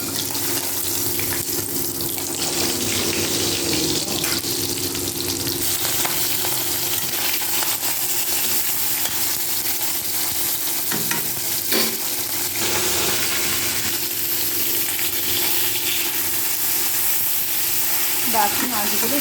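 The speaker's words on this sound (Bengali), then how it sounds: "এরপর মাছগুলো লাল লাল করে ভেজে তুলে নেব" Katla fish pieces frying in a pan for a mango chutney curd katla dish, a steady broadband sizzle running throughout with faint stirring and kitchen clatter, close and continuous.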